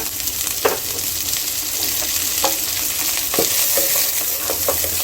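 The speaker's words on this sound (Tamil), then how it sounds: "இதை நல்லா ஃப்ரை பண்ணிக்கிங்க" About eight finely chopped onions fry in a pan for a squid gravy, producing a continuous crackling sizzle up close with repeated scraping and tapping from a spoon stirring them.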